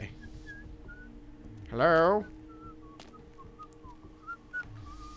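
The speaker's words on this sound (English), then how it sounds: "I do hear" A whistled melodic phrase in the video game Vampire: The Masquerade – Bloodlines, one loud warbling burst of about half a second amid faint ambient game sounds, with a brief spoken greeting and soft clicks nearby.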